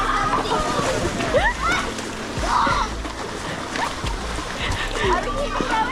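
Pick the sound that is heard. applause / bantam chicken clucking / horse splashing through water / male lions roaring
horse splashing through water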